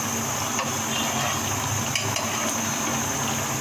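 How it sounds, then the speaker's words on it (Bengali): Bottle gourd sizzles and gets stirred in oil with rohu fish belly, a steady close frying hiss broken by light scraping of the utensil against the pan. "রুই মাছের পেটি দিয়ে লাউ রান্না করছি অনেক টেস্ট হয়"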